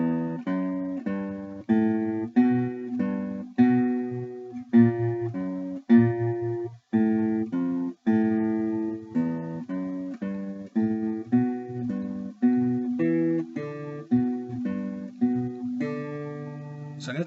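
Acoustic guitar picks out a two-line harmony phrase at beginner-lesson pace, a steady run of plucked notes and paired intervals ringing clearly and close, with no voice over the playing.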